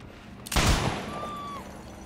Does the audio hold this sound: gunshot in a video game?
yes